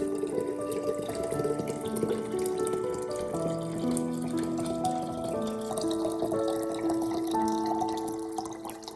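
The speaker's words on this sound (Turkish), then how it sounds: "Üzerine 2 litre su ekliyorum." About two litres of water are poured into a mixture in a container, a steady close splashing pour with rising, gurgling tones that continues throughout and fades slightly at the end.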